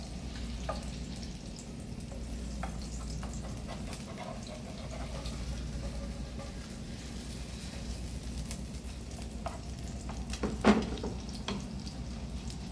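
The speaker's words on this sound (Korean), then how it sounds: "맨 마지막에 버터를 조금 넣어서 앞뒤로 구워주세요" Salisbury steak pan-frying in butter, giving a faint, steady sizzle that runs without pause throughout, with one small clink near the end and no voices.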